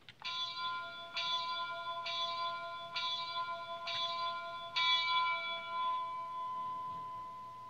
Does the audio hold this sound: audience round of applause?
no